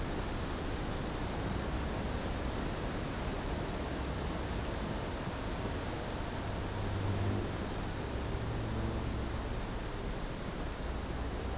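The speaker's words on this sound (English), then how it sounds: "That is a big waterfall." A big waterfall in the video game I Am Alive roars as a steady, dense broadband rush that stays constant and loud throughout, with no voices over it.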